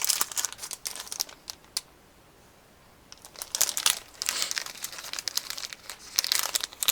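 Resealable plastic packaging of a squishy toy crinkles and rustles loudly up close in bursts of handling, with a quiet pause of about a second and a half midway.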